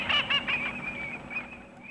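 Hooded cranes and other migratory birds calling at Suncheon Bay in early winter, a few loud honking calls at first, then a sustained trailing cry that fades under a low outdoor rumble.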